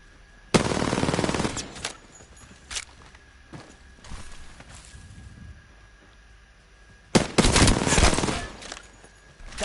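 Automatic gunfire in a video game comes in two loud, close bursts of rapid shots, with scattered single cracks and softer movement sounds in between.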